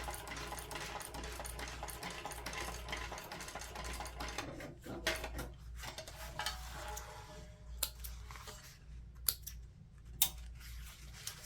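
A sewing machine topstitches along the base edge of a messenger bag's gusset, a steady continuous whir with a few sharp clicks toward the end.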